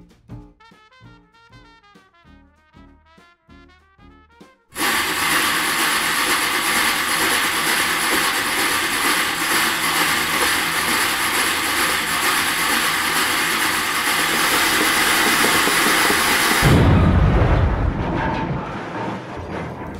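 Imitated train sound effects for a 1904 silent film: a roaring, rumbling train sound builds and holds steady for a long stretch, loud and continuous, after a brief opening of plucked musical notes; the roar then suddenly drops away.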